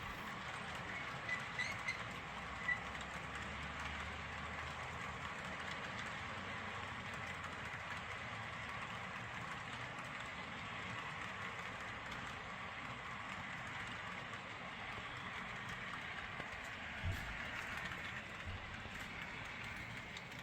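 An HO scale model train runs on layout track with a steady, faint rolling rumble and light clatter that continues for about twenty seconds in a quiet room, with no talking.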